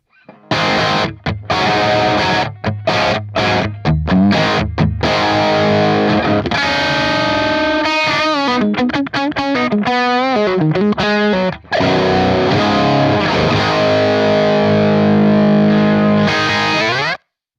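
Electric guitar played through a Marshall-style amp model with distortion and a boost, loud and alone: choppy palm-muted chugs and stabs at first, then sustained chords and bending, wavering notes, cut off abruptly at the end.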